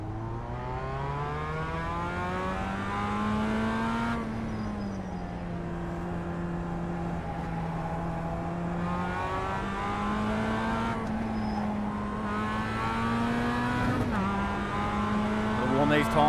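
Race car engine in a racing video game, revving and droning steadily as the driver weaves to warm the tyres before the start, pitch rising and falling through gear changes, loud and continuous with talk over it.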